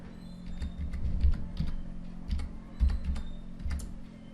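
Rapid keystrokes on a computer keyboard sound in short irregular bursts with small pauses, close and fairly quiet, over a low steady hum from a Windows or Mac computer.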